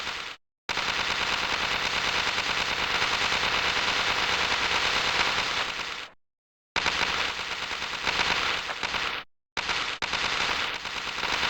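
Sustained automatic gunfire from a video game roars loud and continuous in long bursts, cutting out abruptly twice before resuming, with no talk over it.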